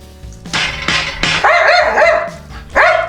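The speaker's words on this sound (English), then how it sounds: "he's gonna bark the whole time" A dog barks in repeated sharp bursts close by, with several barks rising into higher yelping tones, near a yard where stainless steel fence posts are being welded.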